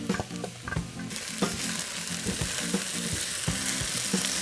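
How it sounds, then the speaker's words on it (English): Sliced portobello baby mushrooms sizzle steadily in a hot pan, with repeated scraping and clanking of a utensil stirring them, close and continuous, with no talking. "we've got a nice little sizzle going"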